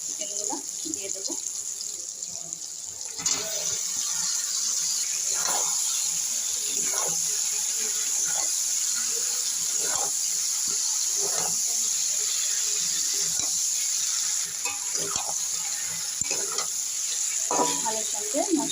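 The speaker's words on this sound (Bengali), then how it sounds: "আমি এবার চিকেনগুলো দিয়ে দেবো।" Chicken pieces frying in a pan with potatoes and whole spices, a steady bright sizzle throughout with occasional stirring clatter, close and continuous.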